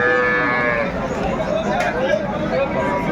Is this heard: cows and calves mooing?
yes